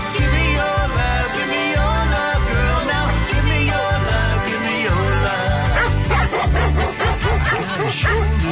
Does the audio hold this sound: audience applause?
no